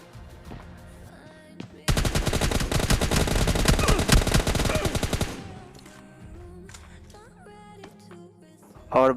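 Rapid automatic gunfire in the mobile shooter game PUBG Mobile Lite, a loud sustained burst of shots lasting a few seconds, with scattered game sounds before and after.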